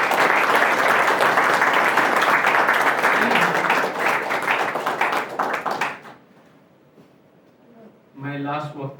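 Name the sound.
audience applause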